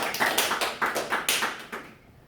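A church congregation claps together in rhythmic bursts of applause, a handful of loud, evenly spaced claps, with no voices over it, then cutting off abruptly into quiet.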